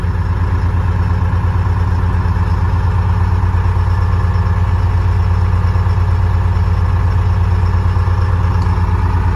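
A 1976 fire truck with a Detroit Diesel engine running at a steady idle, a loud, close, low rhythmic diesel chug that holds constant throughout with no voices.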